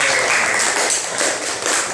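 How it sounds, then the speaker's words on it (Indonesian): Students in a classroom clap together after a group presentation, a loud, brief burst of dense applause that stays steady throughout. "Tepuk tangan dulu."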